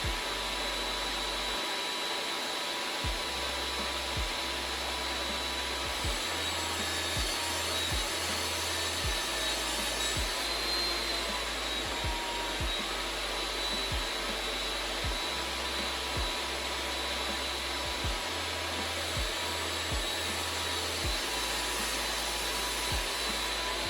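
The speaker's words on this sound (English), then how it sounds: "cut a rabbet on the lower inside edge of the top mitered frame pieces" A table saw with its blade set low cuts a rabbet along the inside edge of mitered wooden frame pieces, giving a steady, loud running whine with repeated short bursts as each pass is fed through.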